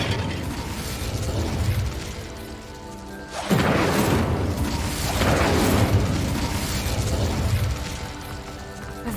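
Incendio fire spell cast in the Hogwarts Legacy video game: a loud fiery burst erupts suddenly partway through, followed by a sustained roaring whoosh and a second swelling surge over steady game ambience.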